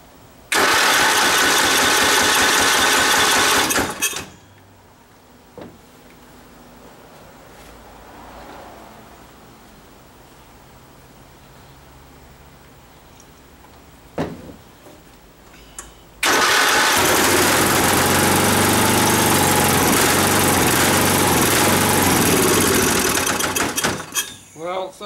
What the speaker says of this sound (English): knocking noise you're hearing is because the motor isn't bolted down tight